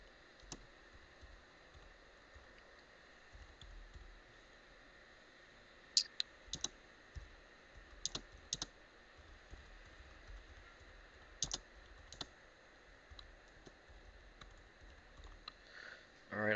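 Typing on a computer keyboard while entering keywords for a blog post: quiet, sparse key clicks, some single and some in short bursts, over a faint room hum.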